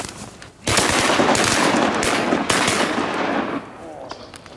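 Shotguns fire in a rapid volley at ducks during a Minnesota duck hunt, loud close blasts overlapping for about three seconds then stopping, with a shout just before.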